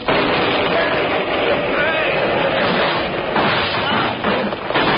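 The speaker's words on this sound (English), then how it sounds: "There was a deafening explosion, and the whole wall rose up and toppled in upon them." A radio-drama explosion effect of a wall blowing up and toppling roars as one dense, sustained crash. It sounds muffled and band-limited and holds steady for several seconds.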